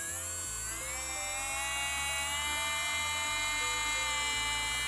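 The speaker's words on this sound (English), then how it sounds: "there's a lot of dust flying around when you're drilling your nails. Let's turn on my drill." A small electric nail drill whines at a high, steady pitch around 25,000 RPM, close up, removing gel polish, its tone wavering slightly as it runs continuously without speech.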